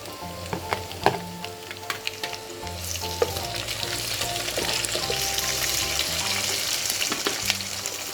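Chicken fries in oil with a loud, close, continuous sizzle, and onions, salt and green chillies cook along with it. A few sharp utensil clinks and stirring knocks land early on, and the frying swells louder midway.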